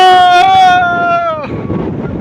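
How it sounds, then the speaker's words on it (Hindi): Strong wind buffets the microphone with a steady, rough rumble, and a voice is briefly heard over it. "इतनी तेज़ हवा चल रही है।"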